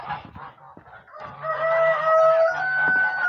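Chickens being let out of their coop cluck and squawk close by, with a drawn-out crowing call in the middle over a busy poultry-yard background.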